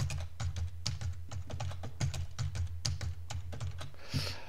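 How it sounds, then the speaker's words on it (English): Keys on a computer keyboard are tapped at a brisk, uneven pace while a password is entered, each keystroke a distinct close click, ending with a soft rustle. "So I'll type in my password and repeat it."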